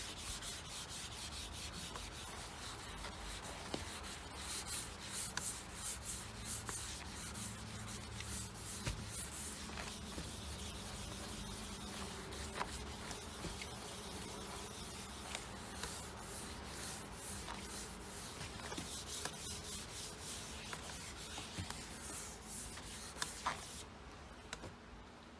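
Wet sanding of a damaged UPVC door with 600 grit wet and dry paper after spraying the surface with water, giving a steady close rubbing and scraping sound that runs continuously with no talk.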